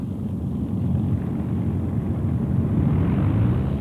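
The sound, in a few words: Avro Lancaster heavy bomber aircraft engines taxiing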